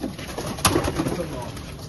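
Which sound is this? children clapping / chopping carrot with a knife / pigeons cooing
pigeons cooing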